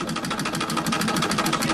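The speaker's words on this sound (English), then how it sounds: "72-year-old Beijing resident Jia Qiufang bought her sewing machine in the 1930s." An old 1930s sewing machine running in China, giving a rapid, even mechanical clatter with a regular stitching rhythm, loud and close, without any voices.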